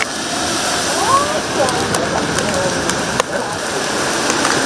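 Heavy rain pours down on street demonstrators at a junction, a steady dense hiss of rainfall with scattered splashes, loud and continuous throughout with a faint background voice.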